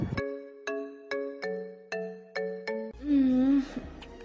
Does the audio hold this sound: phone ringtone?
yes